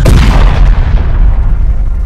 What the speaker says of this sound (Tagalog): Sumabog ang hangin na parang may putok ng tanyon.